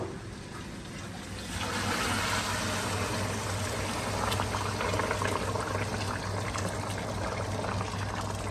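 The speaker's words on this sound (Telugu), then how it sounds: "ఇప్పుడు మనం ఇందులో వాటర్ పోసేద్దాం. వేడి నీళ్ళు వేయాలి, చల్ల నీళ్ళు ఎప్పుడు వేయద్దు కుకింగ్ లో," Hot water pours into Rajasthani Laal Maas mutton curry, a quiet hiss suddenly swelling into a loud, steady rushing and bubbling that carries on to the end.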